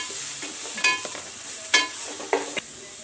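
Cooked rice and carrot stir-fry in hot oil in a pan, with a steady close sizzle broken by several scraping spatula strokes.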